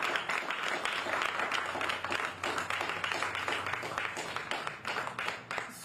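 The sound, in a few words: audience applause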